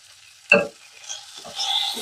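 Drumstick (moringa) pods fry lightly in tempering oil. A sharp clatter of stirring in the pan is followed by a soft, growing sizzle.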